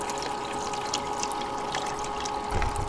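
Water streaming and trickling steadily through a GoldRop 5 gallon bucket gold-recovery system, keeping the material fluidized, a continuous pouring wash with a low rumble swelling near the end, no talk.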